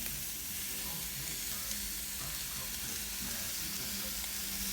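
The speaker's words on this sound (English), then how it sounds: "You just want to break it up a little bit in the pan." Ground beef frying in a pan and being broken up with a spoon, a loud, constant close sizzle with soft scraping and stirring under it.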